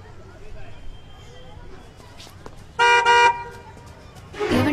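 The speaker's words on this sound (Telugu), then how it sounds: "ఆగున్న కార్ నుంచి హార్న్ కొడతారు ఎందుకండి?" A stationary car's horn sounds in one loud, sustained blast on an otherwise quiet road, followed by the start of a second honk.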